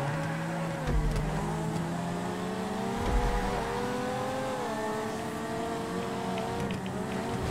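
Race car engines in GTA Online on PC drone continuously through a race, their pitch rising and dipping with gear changes and a couple of low thumps along the way.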